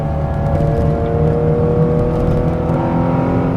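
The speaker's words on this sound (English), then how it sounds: "you hear the carburetors open up" A steady, droning carbureted engine hum from a 1973 Porsche 911 2.7 RS hot rod, with a throaty rumble, held at an even level throughout, close and fairly loud.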